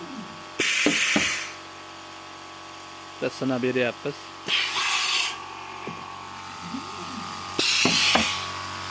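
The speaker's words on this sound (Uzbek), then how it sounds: "Kompressorni o'zida olishgan ekan, lekin yaxshi kompressor ekan," An air compressor on a bread-making machine lets out three loud, sharp bursts of hissing air, spaced a few seconds apart, while a person talks nearby between them.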